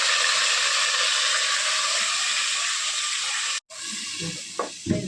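Fish sautéing in a pan with ground chili, garlic, onion and mustard pastes gives a steady loud hiss and sizzle, then a brief break and quieter sizzling with a few clatters.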